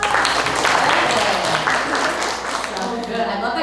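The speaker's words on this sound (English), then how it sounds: "Yay, round of applause." Workshop audience giving a round of applause, scattered clapping blended with cheerful voices and talk over it, moderately close.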